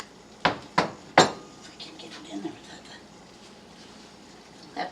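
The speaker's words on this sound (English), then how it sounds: "Now you put that over the double boiler" A metal pan is set over a double boiler while making meringue cream pie, three sharp metallic clanks in quick succession followed by faint scraping and clinking, near and clear.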